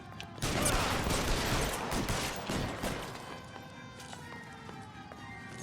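Gunfire in the video game L.A. Noire: a dense, continuous barrage of shots that is loudest early on and then thins to a steadier rattle.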